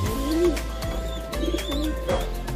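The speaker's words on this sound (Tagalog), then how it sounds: "Ito mga kalapatids." Racing pigeons coo at close range in a loft, giving several soft, rolling coos in a loose rhythm over a low background hum.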